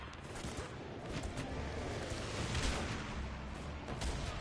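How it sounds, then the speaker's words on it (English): Rapid sniper and gunfire from the video game Guns Up, a dense continuous barrage of shots and booms crackling without a break, with no talk over it. "These snipers are doing their job."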